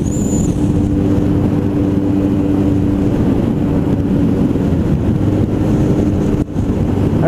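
A 2008 Suzuki Bandit 1250S motorcycle engine on a test ride gives a steady, loud drone, with heavy wind rush buffeting the rider's microphone and masking much of the engine note throughout.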